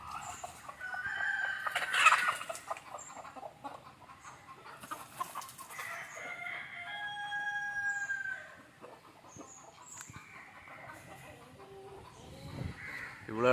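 Country chickens in a rural coop at morning opening, scattered clucks and crowing calls at close and middling distance, varying in loudness over a quiet outdoor background.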